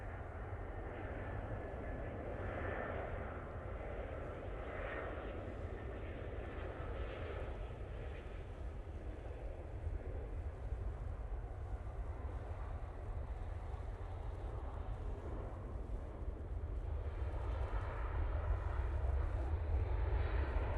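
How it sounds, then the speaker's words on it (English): Rolls-Royce Trent 700 engines on a Virgin Atlantic airliner at Manchester Airport, a steady distant jet roar with deep rumble that swells slightly toward the end, no talk. "There's Trent 700s on the Virgin Atlantic."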